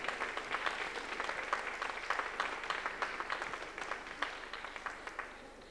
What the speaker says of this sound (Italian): Ancora un applauso alla memoria di Rocco Brancati.